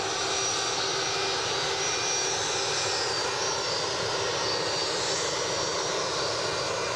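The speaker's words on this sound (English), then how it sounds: "Here's the United departure to Chicago." A United Airlines jet departs Edinburgh for Chicago, a broad, steady engine roar with a high whine, loud and unbroken from start to finish, with no voices.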